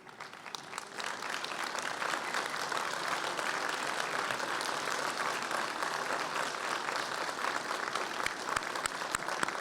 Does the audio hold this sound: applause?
yes